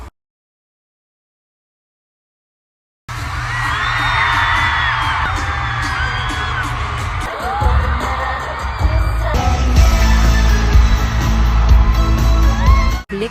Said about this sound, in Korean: 팬들은 비명과 함성을 내지르며 공연을 만끽했습니다